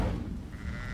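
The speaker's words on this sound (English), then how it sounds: "The sheep." A sheep bleats in the video game Hogwarts Legacy, a single wavering call lasting about a second, fairly close, with no speech.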